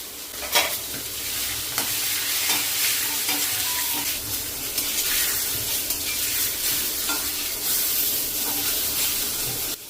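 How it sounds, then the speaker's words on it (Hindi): Pointed gourd fries with turmeric in mustard oil, a dense, steady sizzle and spray of hot oil heard up close, with periodic stirring scrapes throughout and no voices. "बस इसको वॉश करके और सरसों के तेल में इसको फ्राई करना है।"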